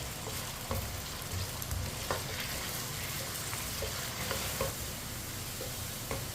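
Potatoes frying in a pan while a spoon stirs them, a low continuous sizzle broken by occasional soft scrapes and clinks of the spoon, with no talk.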